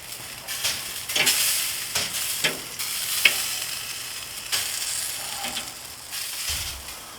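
Kosmos honey BBQ chicken wings sizzle on a grill with a steady frying hiss, punctuated by several scraping, clinking stirs and tong handling up close, with no talk.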